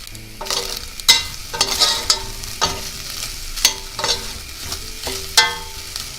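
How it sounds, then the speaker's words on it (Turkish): Chicken gizzards sauté dry in a pan with a soft sizzle, broken by repeated sharp scrapes of a spoon stirring against the metal every second or so, close up with no talk. "Şöyle bir hafif bir iki daha böyle kavuracağım."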